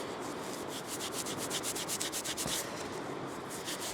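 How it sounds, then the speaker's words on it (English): A small coin found on a beach with a metal detector, rubbed back and forth against trouser fabric in a quick, steady rhythm of close, scratchy strokes, with no talking. "Let's give it a rub on the trousers."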